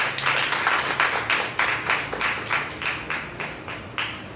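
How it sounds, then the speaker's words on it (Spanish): Steady rhythmic hand clapping from a church congregation at an Assembly of God Sunday school, with sharp, evenly spaced claps repeating throughout at a moderate, consistent level. "Denle otro aplauso a"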